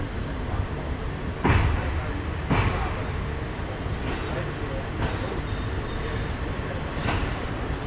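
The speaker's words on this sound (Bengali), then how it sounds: "ট্রেন ছেড়ে দিয়েছে কম্বোডিয়া বর্ডারের জন্য" A train pulls away from a Thai station bound for the Cambodian border at Poipet, giving a steady low rumble with a few sharp clanks near the start and occasional faint squeals.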